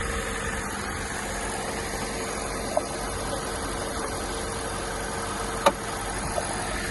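A cold 2017 Kia Sportage engine idles steadily, a low even hum with a faint tonal whine, recorded close without voices, with a couple of small clicks along the way.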